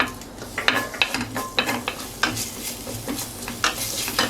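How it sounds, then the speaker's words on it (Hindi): Ginger and garlic frying in oil, a steady sizzle broken by repeated scraping stirs of a spoon against the pan, close up. "अदरक लहसुन हमारे अच्छे से भून चुके हैं"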